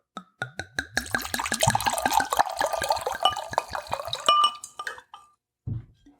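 Wine poured into a glass, a close series of gurgling glugs and splashes at a steady rhythm that then thin out, with a clink near the end.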